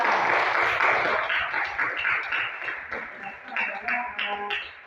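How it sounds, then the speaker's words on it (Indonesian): A class applauds group 3 for its answer during an Islamic studies lesson, with steady, dense clapping and some voices mixed in throughout. "Tepuk tangan untuk kelompok 3"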